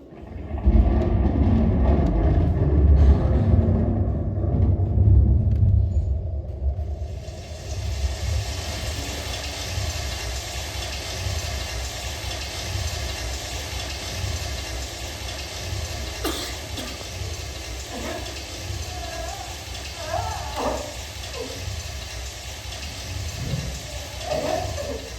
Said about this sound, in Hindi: बारिश रुकने के बाद।